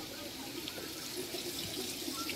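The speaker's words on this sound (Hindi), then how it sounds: "पानी आ रखा" Water runs steadily from a tap in an outdoor temple courtyard decorated with Diwali lights, a continuous close splashing hiss with no speech.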